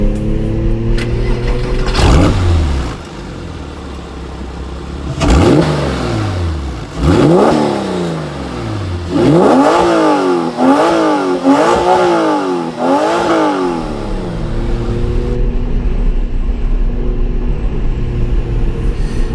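A Porsche 911 996 Carrera 2 with a switchable sports exhaust revs hard several times in quick succession, the exhaust rising and falling in loud, raspy bursts before settling into a rumbling idle.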